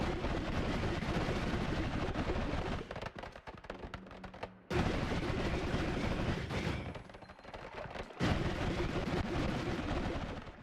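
Dense, rapid shooting and explosions in the video game Noita keep up a loud, continuous barrage that briefly thins out twice before surging back.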